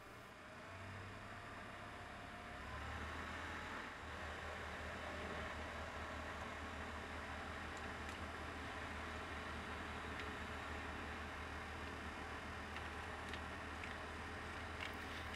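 Vacuum suction pulls through the tape drive's channels on a turbo blower running at 6 volts, a steady airy rushing hum with low rumble that holds evenly throughout, close and moderate, no talk.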